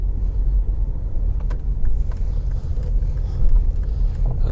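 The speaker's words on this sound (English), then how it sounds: "why not come along for a drive till I get to my location" Steady low rumble of a car driving from Whitfield to St Margaret's Bay, heard from inside as a constant road and engine drone with faint ticks and no talking.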